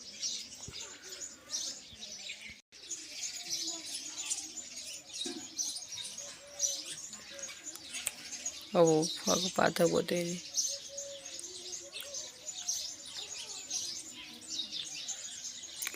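Pigeons coo and chirp nearby, with a few soft calls rising briefly in the middle while someone talks over a steady background hiss.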